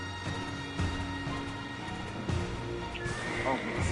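A horse neighs and whinnies among clopping hooves in Black Desert Online on PlayStation 4, with layered game background sound and a voice breaking in now and then.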